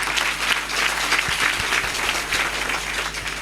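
A church congregation at a Mass celebrating the feast of the Most Holy Sacrament in Yopougon claps steadily together, a sustained, fairly loud wash of applause with no voices on top.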